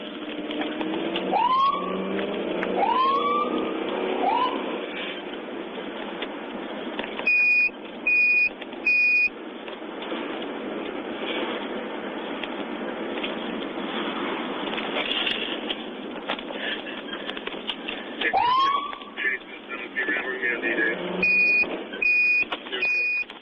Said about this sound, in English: the officer activated sirens to make a donkey stop